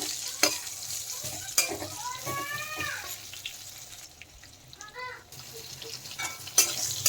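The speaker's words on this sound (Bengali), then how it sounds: "উল্টে পাল্টে পটলগুলো ভালোভাবে ভেজে নেব" Slices of pointed gourd (potol) turning over in hot oil, with a soft frying hiss, scattered scrapes and clinks of a spatula, and a few sharp knocks; no one speaks.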